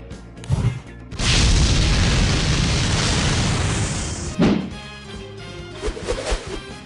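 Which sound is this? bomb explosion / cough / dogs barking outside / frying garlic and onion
bomb explosion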